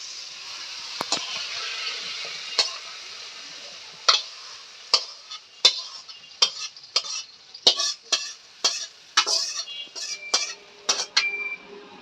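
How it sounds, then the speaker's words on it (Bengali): Vegetables frying in a pan, with a constant soft sizzle under a run of sharp, close scraping strokes that grow more frequent and rhythmic after the first few seconds; no one speaks. "এবার সবজিগুলো বাইজা নিব আগে।"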